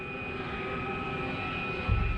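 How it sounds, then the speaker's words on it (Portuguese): A damaged jet airliner descends with a steady, loud engine drone and a sustained high whine, with a brief low rumble near the end. "Ao mesmo tempo, eu sabia que tínhamos sérios problemas, pois o avião continuava descendo."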